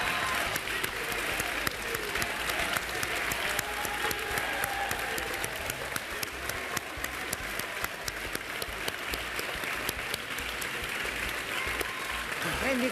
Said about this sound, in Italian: questo un meritato applauso